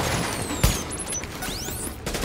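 Turret gunfire in The Division, a dense scatter of rapid shots mixed with a single sharp louder crack, whistling projectiles and chaotic combat noise.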